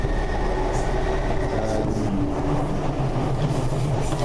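A Class 170 diesel train passes on the Maryhill line in Glasgow, a loud, steady close rumble of wheels on rails with faint squealing throughout.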